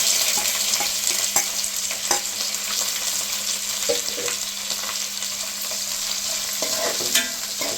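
Long-sliced onions and curry leaves frying for pulao, a loud, steady sizzle close up with occasional light taps and stirring scrapes throughout.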